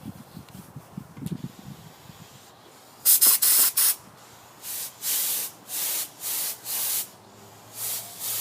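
An aerosol can sprays clear coat over paint in a series of short, close hissing bursts, one long burst followed by several evenly spaced shorter ones, with quiet handling noise before.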